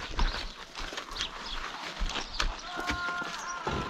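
A horse named as a raffle prize walks on a vaquejada track at a Brazilian stud farm, hooves clip-clopping in a steady irregular rhythm at moderate distance over outdoor ambience.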